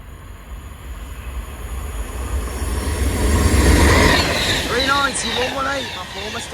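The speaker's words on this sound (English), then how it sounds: "170 heading out there for Birmingham New Street." A Class 170 diesel multiple unit pulls away from a platform bound for Birmingham New Street, its engine rumble building to a steady near roar with wheel squeals rising toward the end, people talking nearby.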